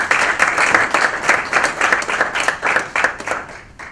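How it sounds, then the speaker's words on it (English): An audience at a chapter event of a Hispanic business society applauds the panelists. Dense, fairly close clapping in steady waves begins at full strength and then gradually fades over a few seconds, with no talking. "One more round of applause for our panelists"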